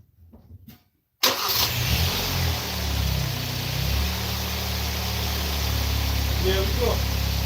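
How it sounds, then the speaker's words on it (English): A car engine with its PCV valve disconnected cranks and catches after a second of quiet, then settles into a steady, loud idle running on alone with a constant low rumble. "I'm gonna disconnect it now and start the car and see what's happening."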